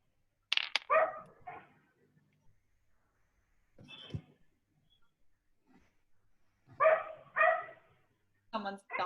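A dog barks off and on at a distance, short bursts of barking with gaps of quiet between them and a brief murmur in the middle.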